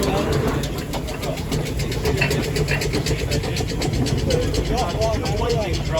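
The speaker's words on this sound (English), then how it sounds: "we also have a ploughing engine" A steam ploughing engine runs at a show, giving a steady mechanical chuffing and rumble with rapid rhythmic ticking, loud and continuous, while someone talks over it.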